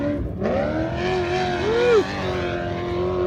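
Off-road race vehicle at a desert race qualifying run, engine loud and close as it accelerates, pitch sweeping up and dropping with a downshift, then droning on steadily.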